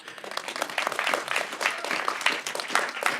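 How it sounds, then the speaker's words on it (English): Audience on a studio lot applauding, a lively burst of many hands clapping with uneven swells and dips, close and fairly loud. "After each thought, they'll applaud you."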